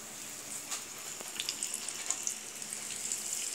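Galunggong fish frying in hot oil in a home kitchen, a soft steady sizzle with small scattered pops and crackles, fairly quiet and heard alone.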